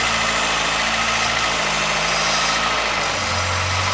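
A car engine idles steadily and quietly after belt work, a constant low hum with a slight pitch shift near the end, no voices.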